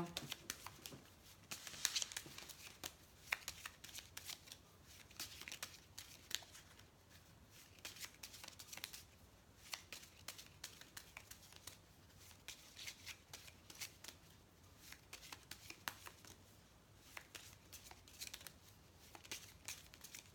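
Oracle cards being shuffled and cut during a tarot-style reading, a steady papery riffling and shuffling that continues softly for the whole stretch, with faint background murmur but no clear talk.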